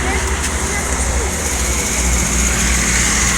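Loud, continuous rumble of a large bus engine pulling away on a road near Palembang, with a broad steady roar of traffic noise close by.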